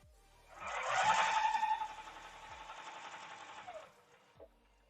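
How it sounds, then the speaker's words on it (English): A sewing machine stitching maple leaf quilt blocks runs in a steady fast whir for about three seconds, starting with a brief higher squeal and stopping with a soft click, close and fairly quiet. "Let's go ahead and get these sewn up now."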